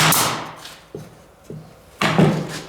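Three sharp percussive cracks of a Keentech 2-in-1 brad nail gun firing into wood, spaced about half a second apart, with a louder impact burst at the start and end.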